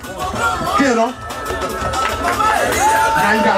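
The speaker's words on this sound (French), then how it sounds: "On acclame le président Delmas pour son investiture." A crowd acclaims a newly installed association president at his investiture ceremony, a continuous mix of cheering, shouting voices and chatter that swells and dips but never stops.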